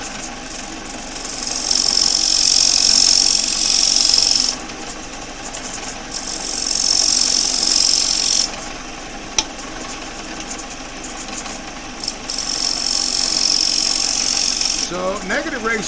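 Sandpaper pressed against turned wood spinning on a woodturning lathe gives a loud, close abrasive hiss over a steady motor hum, coming in several long passes separated by brief lighter pauses.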